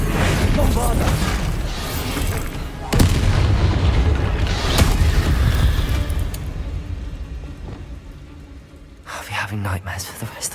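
Bombarda blasting spell explosions in Hogwarts Legacy, a loud, continuous barrage of booming blasts and rumbling combat effects that fades out toward the end.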